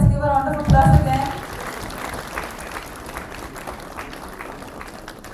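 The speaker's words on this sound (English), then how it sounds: "Everybody, let's give a round of applause again." An audience at a tech conference's opening keynote breaks into applause after a voice speaks briefly at the start, then steady, moderate clapping fills the room and slowly fades.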